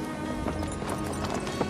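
Horse hooves clip-clop steadily amid a dense crowd of people gathered for horse races, the hoofbeats merging into a busy, continuous wash of noise.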